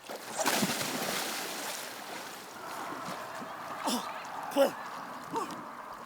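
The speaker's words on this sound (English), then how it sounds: "Look, I'm paddling." A paddle dips into a lake from a kayak or paddleboard, making soft splashes and water swishes over a steady wash of wind and water, with a voice briefly heard.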